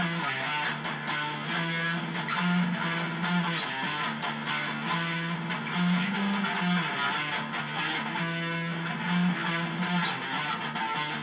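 A heavily distorted electric guitar plays the opening riff of a song, dense and driving with fast palm-muted chugs and a few sustained accents, loud and continuous without speech.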